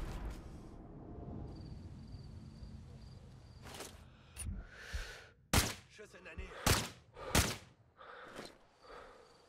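Several sharp, loud gunshots crack nearby in Sniper Ghost Warrior 3, spaced irregularly over a quiet outdoor background.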